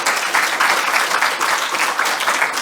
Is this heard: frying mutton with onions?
no